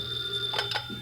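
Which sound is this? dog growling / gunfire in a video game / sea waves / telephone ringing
telephone ringing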